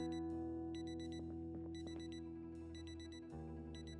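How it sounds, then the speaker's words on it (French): An electronic alarm clock in a video game beeps in repeating rapid bursts over a steady synthetic hum, clear and close. "je vais régler l'alarme"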